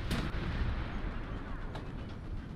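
The American 90mm gun on an M36 Jackson GMC tank destroyer firing in War Thunder: one sharp, heavy cannon blast at the start, then a rumbling tail and low engine drone, with a quieter second thump shortly after.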